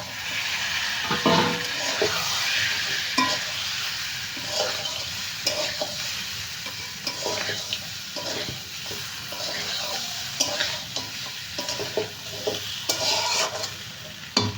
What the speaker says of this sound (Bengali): মটনটা ভালো করে কষিয়ে নিয়েছি